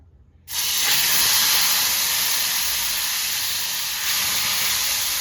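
Spinach paste hitting hot oil in a pan for creamy spinach pasta, setting off a sudden loud, steady broadband sizzle that holds strong and close after a brief quiet start, with no talk.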